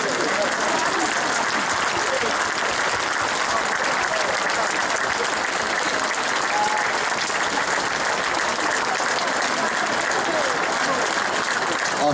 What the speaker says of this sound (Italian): Stanno applaudendo ancora